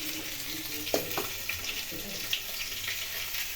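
Shredded cabbage fries in a pan with a steady, close sizzle, broken by a few light clinks and scrapes of stirring.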